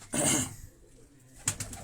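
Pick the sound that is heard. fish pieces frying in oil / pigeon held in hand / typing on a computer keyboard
pigeon held in hand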